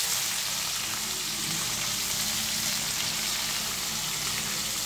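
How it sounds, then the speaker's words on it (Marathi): Potatoes, tomato and carrot fry in a pan for a mixed bhaji, producing a steady, loud, close hiss of sizzling oil that continues unbroken throughout, with faint stirring beneath and no voices. "बटाटा हलवून घेतल्यावर त्याच्यात टोमॅटो टाकायचा। मग गाजर टाकायचा,"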